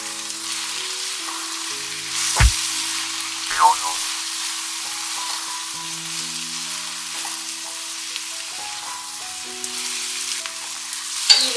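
Brinjal and amaranth leaves frying with garlic and chili in a pan, giving a steady low sizzle with a couple of brief knocks and clatters, while faint tonal hum sounds run underneath.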